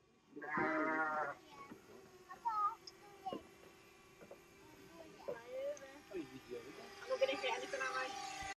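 Several sheep bleat in bursts on an Armenian mountain farm at dinner time, a loud close call opening the scene and more calls scattered after, with people talking nearby.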